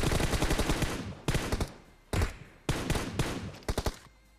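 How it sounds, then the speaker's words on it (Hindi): Bursts of rapid automatic gunfire from a PUBG Mobile battle near a power plant, loud and close, in several separate volleys with short gaps, no talk. "पावर प्लांट की साइड से ना मतलब और फायरिंग होती है हमारे ऊपर"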